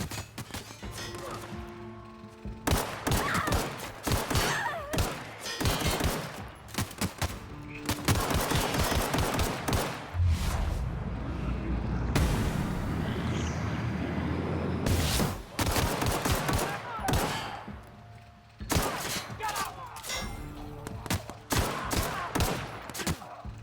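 Video game gunfire in rapid bursts and dense volleys, loud and close, repeating across a long stretch with brief gaps and a heavier rumbling blast in the middle.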